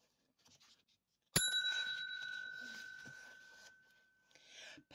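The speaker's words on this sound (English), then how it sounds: "when you hear the bell, remember to turn the page." A single bright bell ring signals a page turn during a read-aloud of the picture book Polar Bear, Polar Bear, What Do You Hear?, striking sharply and ringing on with a long fading tone, with faint page rustling around it.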